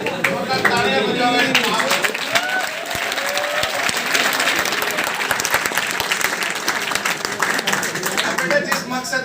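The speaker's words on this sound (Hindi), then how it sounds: "तालियां बजाओ।" An audience of college students claps and applauds in a dense, steady burst lasting the whole stretch, loud and close, with voices mixed into the crowd noise.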